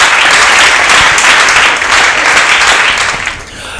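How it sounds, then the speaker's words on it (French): A studio audience applauds loudly for the president of the cinema group Les Leaders. Close, dense clapping runs throughout and dips slightly near the end. "nous demandons encore une fois de plus de pouvoir applaudir très fort pour le président du groupe Les Leaders"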